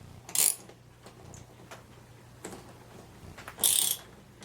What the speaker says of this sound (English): as I tighten this bolt and this bolt, it's just pulling the bushing right into the torque link